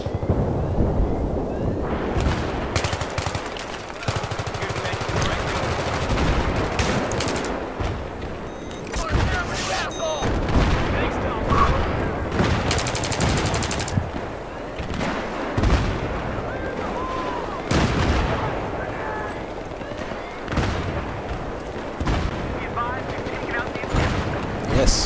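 Rapid sniper rifle shots crack and boom in a Battlefield 3 firefight, repeated bursts of loud gunfire over ongoing in-game noise while players talk throughout.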